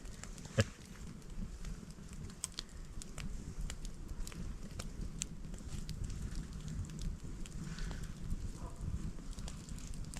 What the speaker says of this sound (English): I'm going to sit here and enjoy my campfire